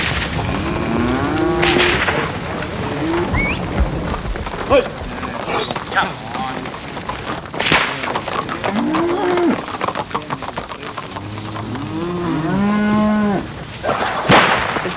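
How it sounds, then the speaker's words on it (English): A herd of cattle moos loudly and repeatedly during a recreated Merriwa to Maitland cattle drive in the Hunter, with overlapping calls near and far, sharp cracks like a whip, and drovers shouting and calling to the stock. "the staging of the Great Merriwa to Maitland cattle drive"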